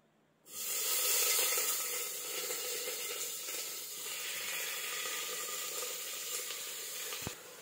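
Chopped eggplant drops into hot oil in a pressure cooker and bursts into a loud, steady sizzle that holds with little change, ending with a brief knock near the close.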